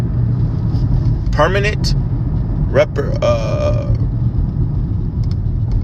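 A car's engine and road rumble drone steadily from inside the cabin throughout, with someone talking over the constant noise.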